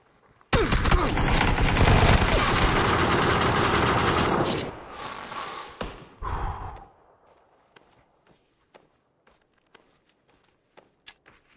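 In the battle-royale game PUBG, an SMG fires one long, loud, rapid burst lasting about four seconds, then a few shorter bursts follow before scattered faint single clicks and shots.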